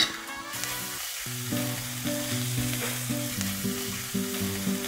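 Sliced onions sizzle and fry in a pan as turmeric powder is added, a steady bright crackle with a faint stirring scrape and no talking.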